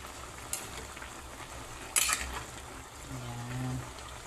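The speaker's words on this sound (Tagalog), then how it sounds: "Mix natin." Food stirred in a cooking pot, with a few clinks of a utensil against metal over a soft simmer, fairly quiet with faint background noise.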